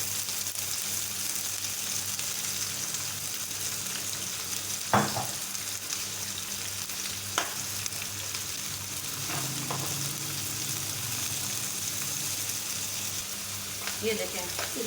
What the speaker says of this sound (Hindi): प्याज को हम अच्छी तरह से भून लेंगे और पका लेंगे।